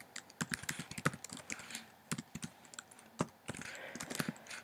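Irregular bursts of close, crisp key clicks from typing on a computer keyboard, with short pauses between the runs and no voices.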